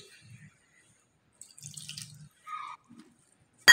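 Water is added by hand to gram-flour pakora batter in a home kitchen: a few quiet trickles and small splashes come in short, scattered bursts with silent gaps between them.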